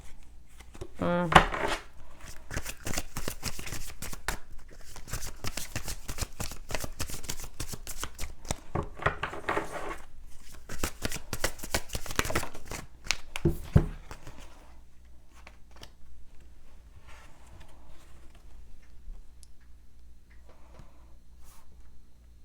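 Playing cards being shuffled repeatedly, rapid riffling bursts with clacks, close up, then quieter handling as the shuffling stops.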